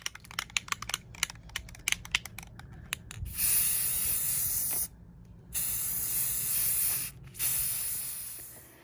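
Rapid clicks and taps give way to long, steady hissing bursts of a spray paint can spraying garden stakes, paused twice before resuming, loud and close.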